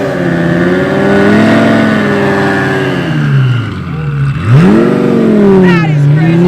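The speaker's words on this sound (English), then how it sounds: "You want to see the exhaust." Twin-turbo Lamborghini Gallardo Super with roughly 1,800 horsepower, its exhaust revving loudly and close by, the engine note rising and falling in repeated sweeps, dipping low near the middle before climbing again, with faint voices underneath.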